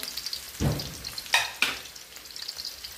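Onion frying over a high gas flame for fried rice gives a steady close sizzle, broken by a few louder stirring scrapes and hisses from the pan.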